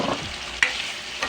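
Chicken afritada being stirred in a pan, a steady sizzle with a couple of scraping spoon strokes, close and alone.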